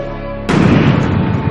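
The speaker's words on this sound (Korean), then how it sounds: "후쿠시마 원전 4개가 연이어 폭발했습니다." Sudden loud blast-like boom from the 2011 Fukushima nuclear plant explosions, a single sharp onset after a quiet steady hum, followed by a sustained rumbling roar; no voices.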